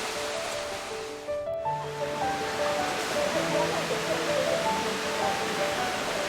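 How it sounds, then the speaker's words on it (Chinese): Yan'an Waterfall in a mountain forest park, a silvery curtain of water pouring down, heard as a broad steady rushing roar beneath background music, continuous throughout. "眼前豁然开朗的是燕安瀑布，银白色的水帘流泻而下"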